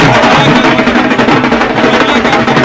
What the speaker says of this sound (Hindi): जीत का ढोल बजा तो थाप थमी ही नहीं।